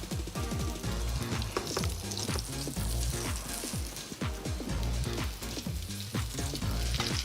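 Breadcrumbed meat browning in a hot pan for a Spanish dish, loud close sizzling and spitting with repeated crackles and soft knocks of the pan throughout.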